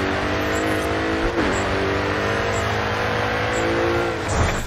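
A race car engine in the GRID 2 racing game holds a steady high, loud whine throughout, with a brief dip and rise of revs as it shifts or brakes for corners, and no voice over it.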